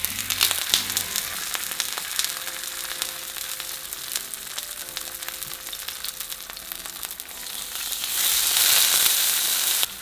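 Corn tortilla dipped in oil sizzling on a hot griddle, a close, crackling fry with popping bursts that swells louder near the end.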